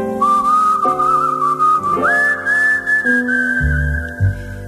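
Clear, loud human whistling of a melody within a song, sustained tones shifting pitch over steady instrumental accompaniment.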